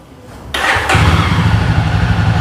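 A 2020 Jawa 42 BS6 motorcycle engine cranks and catches, then settles into a loud, steady, throbbing idle close by.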